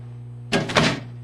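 A desk drawer slides shut with one brief scraping thud, close and fairly loud, over a steady low electrical hum.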